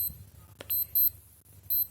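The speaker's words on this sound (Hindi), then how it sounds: "ऐसा पीप साउंड देता है ये।" A V2A digital sports watch alarm sounds in short, sharp, high-pitched electronic beeps in bursts, fairly close and clear over a faint low background hum.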